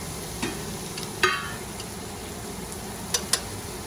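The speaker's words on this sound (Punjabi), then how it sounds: "ਪਿਆਜ਼ ਆਪਣੇ ਬਰਾਊਨ ਹੋਣ ਲੱਗੇ ਨੇ" Onions fry and brown quietly in a pan while being stirred for stuffed green chillies, giving a soft steady sizzle with a few faint clinks and scrapes, no voice over it.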